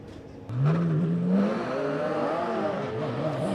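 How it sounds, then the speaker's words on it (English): Race car engines rev and whine at Oulton Park, one rising sharply then settling into a steady, layered drone as several cars pull away nearby onto their green flag lap. "the cars are heading out now on their green flag lap"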